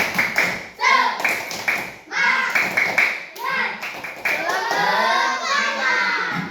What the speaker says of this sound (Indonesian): Coba kelompok 3, tepuk semangat yang keras.